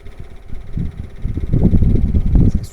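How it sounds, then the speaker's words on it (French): An EcoFlow Wave 3 air conditioner fan that had a fault runs with a steady low whooshing hum and a faint rubbing, rising slightly in strength, close and loud with no talking. "Il y a un petit bruit de frottement."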